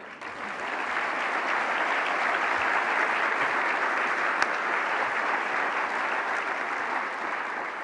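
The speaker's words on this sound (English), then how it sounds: "give them a round of applause" A full round of applause from a large audience at a county address honoring veterans' advocates, dense, even clapping that sustains at a steady loud level throughout.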